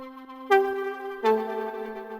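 A Diva synth pluck with delay on it plays two bright, harmonically rich notes about a second apart, each struck sharply and then held with echoing tails, clean and alone.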